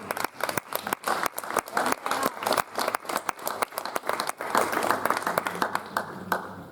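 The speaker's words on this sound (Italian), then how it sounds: "Facciamo un applauso." Audience applause at a village poetry event in Bulzi, clear individual claps at first quickly swelling into fuller, sustained clapping from the crowd.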